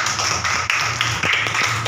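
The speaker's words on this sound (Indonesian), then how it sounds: "Bagus, tepuk tangan." A short burst of clapping and tapping from a classroom group, fairly steady with uneven slaps, close by and not very loud.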